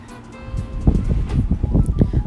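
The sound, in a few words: wind blowing outdoors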